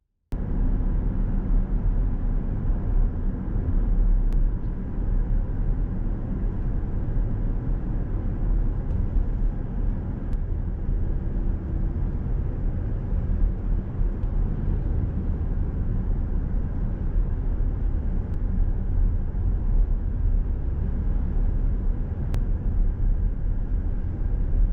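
A car cruises along the Branson Strip in Branson, Missouri, heard from inside as a steady low road and engine rumble that holds unchanged throughout, with no voices.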